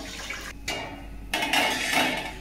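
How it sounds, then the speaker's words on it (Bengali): Hot water poured from a pot into a cooking pan for polao after the gas is switched off, a short splashing pour with metallic clinks that swells toward the end, with no talk. "গ্যাসটা বন্ধ করে জলটা এখানে ঢেলে দিচ্ছি।"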